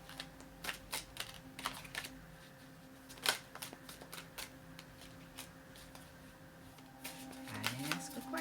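Playing cards shuffled and flicked during a card reading, a run of faint, close, crisp snaps and riffles in uneven bursts over a low background hum.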